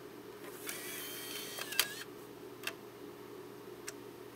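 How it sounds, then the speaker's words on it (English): A game disc slides into a Nintendo Wii console's slot, giving a few faint mechanical ticks and clicks over quiet room hum, with no talking. "I don't know if discs insert cleanly yet."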